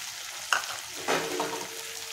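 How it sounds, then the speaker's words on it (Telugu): Spices go into an egg and dry fish curry as it is stirred in a pan, giving a soft background sizzle with two brief scraping stirs over it. "ధనియాల పౌడర్ వేసేసుకుని ఇలా కలుపుకుని"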